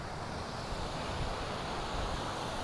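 Steady wind roars across a mountain trail in the Mercantour near the Lacs de Vens, a broad continuous whoosh buffeting the microphone and stirring branches and leaves, with no voices.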